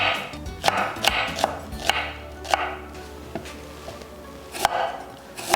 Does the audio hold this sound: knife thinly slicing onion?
yes